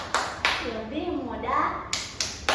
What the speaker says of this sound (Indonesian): Oke, tepuk gotong royong